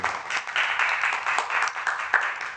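A union gathering's audience breaks into applause at a speech, a steady medium-loud wash of clapping hands with scattered sharper claps throughout.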